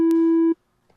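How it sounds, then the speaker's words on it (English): A pure sine wave tone from a Massive synthesizer oscillator, one steady unwavering pitch held for about half a second and then cut off cleanly, leaving near silence. "so that we have a pure sine tone"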